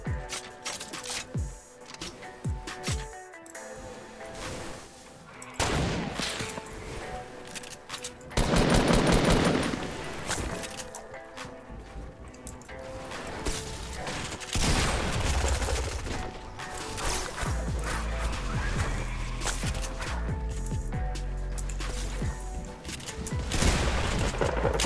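Gunfire in Fortnite, dense volleys of rapid automatic shots and sharp single cracks with booming impacts over a continuous mix of game sounds.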